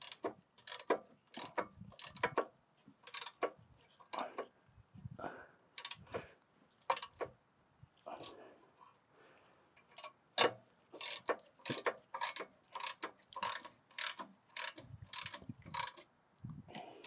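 Rear brake bolts on a 2014-2016 Kia Forte are snugged up during a pad and rotor job, giving short, quiet bursts of crisp clicking with brief pauses between them. No talking is heard.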